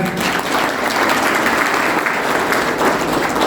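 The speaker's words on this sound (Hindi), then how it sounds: "आप तालियों से उद्घोष करके उनका सम्मान करें" Audience clapping at a Rajput community business group meeting in a hall in New Delhi, steady dense applause throughout, fairly close and even.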